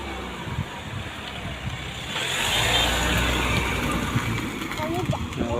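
A car comes along a farm road beside freshly irrigated fields, its low engine rumble and road noise swelling and growing louder about halfway through, then holding steady close by.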